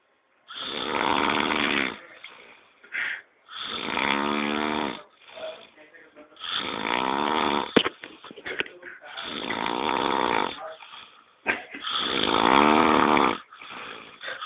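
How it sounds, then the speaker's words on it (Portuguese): A person snores loudly and close by, about five long rasping breaths in a steady rhythm, with quieter breathing between them. "Mas é um ronco, né, cara?"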